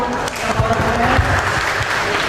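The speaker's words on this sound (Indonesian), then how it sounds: "Kita berikan aplaus untuk" An audience at an Indonesian outreach event on preventing violence against women claps together in a short burst of dense, close applause. A voice is faintly heard underneath.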